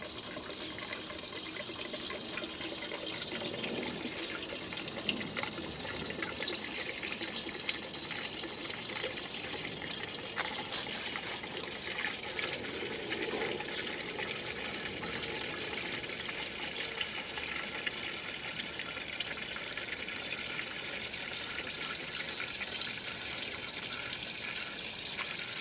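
Two-stroke fuel mixed at 32:1 pours steadily into a gallon container, a continuous close liquid rush and gurgle lasting the whole stretch with no talking.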